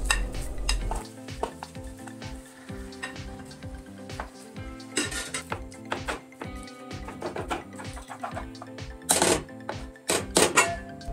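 Lean ground beef mince stirred into a pan of cooked vegetables, with steady frying sizzle under repeated scraping and clinking of a utensil against the pan, a few sharper metallic knocks near the end.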